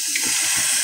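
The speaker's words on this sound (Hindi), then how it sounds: "पानी मिलाऊंगी" Water poured into a hot pan of frying tomatoes and salt, a loud, steady sizzling hiss with faint bubbling underneath, close and continuous throughout.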